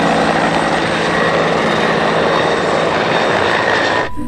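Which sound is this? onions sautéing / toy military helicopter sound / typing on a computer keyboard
toy military helicopter sound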